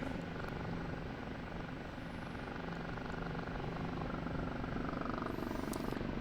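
An OH-58D Kiowa Warrior helicopter in the DCS flight simulator drones steadily with a dense, even rotor and engine roar that holds at constant loudness throughout, alone with no talk.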